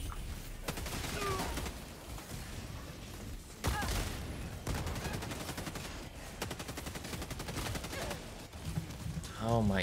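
A player's guns blaze in the video game Helldivers 2, dense rattling bursts of automatic fire continuing almost without pause, loud and close amid battle clatter and a warbling tone at the end.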